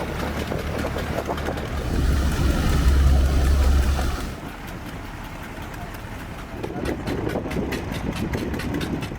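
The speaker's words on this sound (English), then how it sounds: "the roar of several hopper barges announces the start of the tasks" Several hopper barge engines roar steadily on a dredging job, a loud low droning rumble that swells in the first seconds and then settles into a continuous heavy mechanical hum with rattling.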